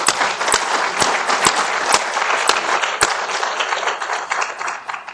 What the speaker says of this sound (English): How about another round of applause for this great panel?